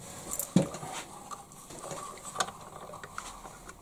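A hobby knife shaving plastic inside a Bruder CAT excavator model bucket part during an RC conversion: a few small scraping clicks and light taps, one sharper scrape early, close and fairly quiet.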